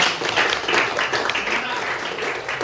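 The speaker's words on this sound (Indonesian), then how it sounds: "tepuk tangan untuk" Steady applause from a class during a teaching practicum, a dense wash of clapping that holds at an even level throughout with no voices over it.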